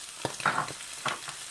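Garlic and masala spices fry in a pan with a soft sizzle, punctuated by a few short stirring scrapes and taps, close and fairly quiet.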